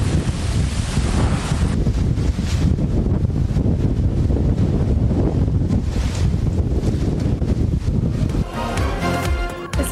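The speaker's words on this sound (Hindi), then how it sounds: "इस्लामाबाद और रावलपिंडी में तूफान के साथ बारिश और जालाबारी।" Storm over Islamabad and Rawalpindi with strong winds that uprooted trees, plus rain and hail: loud, continuous gusting wind buffeting the microphone with a constant rushing roar, rising and falling in strength for the whole stretch, no voices.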